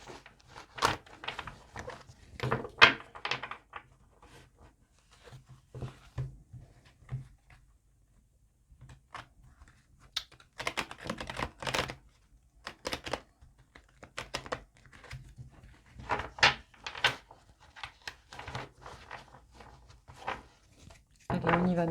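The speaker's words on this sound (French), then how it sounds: "Donc on va le brasser de cette façon." A very large deck of playing cards shuffled by hand, heard as close bursts of crisp papery riffling and clicking with short quiet pauses between them.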